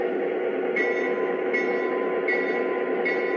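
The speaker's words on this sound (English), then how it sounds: "And the bell." A small electronic bell on a Polar Express model train engine rings four times at an even pace, each strike a bright ping over a steady mechanical hum.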